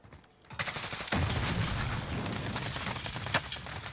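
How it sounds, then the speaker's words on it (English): Enemy soldier gunfire in the shooter game Warzone: dense, loud bursts of rapid shots after a brief quiet start, with a sharp louder crack near the end. "Oh my god, he's shooting."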